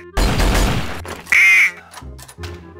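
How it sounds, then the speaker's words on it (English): Duck quacks played from a soundboard in Garry's Mod DarkRP: a loud burst, then a sharp nasal quack, followed by shorter, softer quacking calls. "Quack, quack, quack, quack,"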